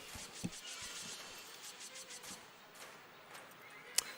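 A horse in the video game Darksiders neighs and whinnies over faint hoof clip-clops and game ambience, with short sharp accents near the start and end and no talk.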